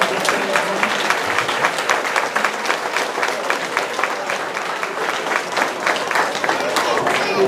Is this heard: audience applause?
yes